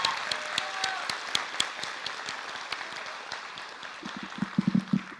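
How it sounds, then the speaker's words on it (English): Applause at a 2023 early college class graduation ceremony, honoring a staff member: a scattered crowd claps in sharp, distinct hand strikes at moderate volume, thinning out and ending with a few heavier claps. "Let's give a big round of applause to Ms. Sharp, who put that together."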